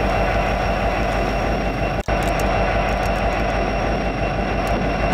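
A runaway Lego toy train rolling on track, a continuous rolling, rumbling noise with a steady mechanical drone, broken by a brief dropout, no voices.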